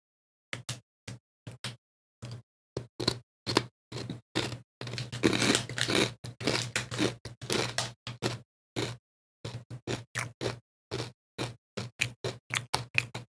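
Seaweed-flavoured sushi crackers are crunched while eating, giving a long series of sharp, close crackling bites in irregular bursts with short silent pauses between them.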